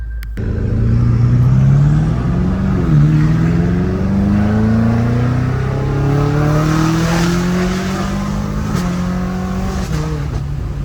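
A BMW M5 Competition engine revs hard and climbs through the gears, its loud, close exhaust note rising in repeated sweeps with brief dips between shifts.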